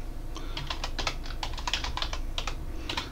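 Someone types a name on a computer keyboard, a steady run of crisp key clicks at close range with brief uneven pauses and no voices.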